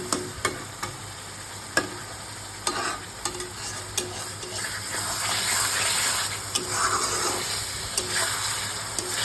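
Thick Bengali fish curry masala frying in oil in a pan, stirred steadily with sharp scrape clicks over a continuous close sizzle that swells louder midway.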